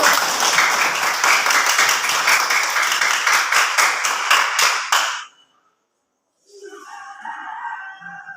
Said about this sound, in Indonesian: pintar semua, tepuk tangan dulu